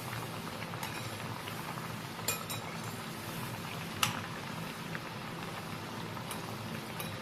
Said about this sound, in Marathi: आता हे तळण्यासाठी मी रिफाईन तेल वापरलेले आहे